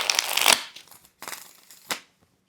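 Tarot cards being shuffled close up: a loud riffling burst followed by a few shorter slaps and flicks of the deck, then quiet.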